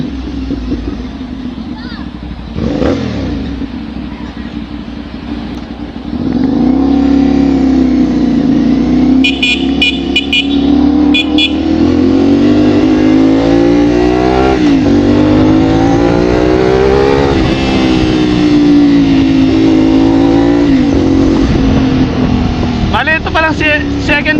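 A CFMOTO 450SR motorcycle engine runs steadily with a smooth, even exhaust note, rising and falling in pitch as it revs, continuous throughout.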